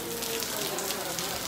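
Steady rain falls outside the gate of the Banke Bihari temple in Vrindavan, a continuous hiss of drops on surfaces with a faint crowd murmur underneath.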